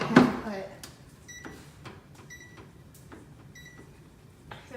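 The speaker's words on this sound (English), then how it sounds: "we're gonna put them into the microwave for 2 minutes" A microwave oven loaded with onions and green beans gives a thud as it is closed, then a short run of keypad beeps, with faint background noise throughout.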